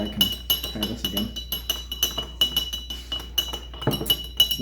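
Ice and a spoon clinking rapidly against a glass while a maple syrup whiskey cocktail is stirred, a close, bright, irregular rattle of sharp taps.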